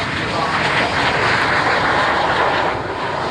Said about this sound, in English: Loving the sound of the Merlins as well.